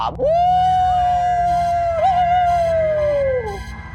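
A single long, drawn-out dog howl rises and holds steady for about three seconds before trailing off, over a low steady hum.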